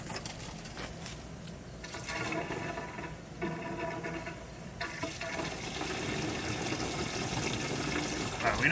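Well-water pump running in a car hauler RV/bus conversion, sending water rushing steadily from an open faucet; a continuous splashing flow that builds slightly louder over time, close and alone.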